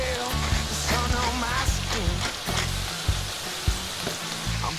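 Lamb sizzles and fries loudly in a pan with roasted French shallots, a dense steady crackle with occasional pops and stirring clatter close by.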